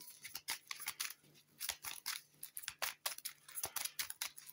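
Playing cards being shuffled during a solo tabletop game of Goblivion, Definitive Edition, giving a series of quick, crisp riffling and slapping bursts at close range with no talk.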